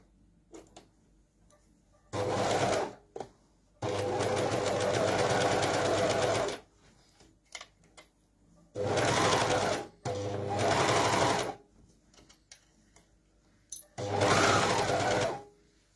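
An older overlocker sewing machine runs in loud bursts of a few seconds each, with quiet pauses and small clicks between them, and no talking.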